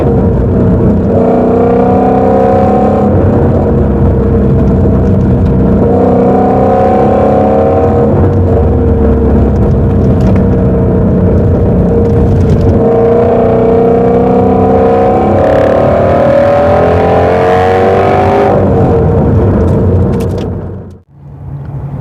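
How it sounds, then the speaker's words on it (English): A Ford Mustang Shelby GT350 V8 drives along twisty roads, its engine droning loudly and rising and falling through repeated revs and gear changes. It cuts out sharply near the end. "Hope you also enjoyed the drive and also the V8 sound."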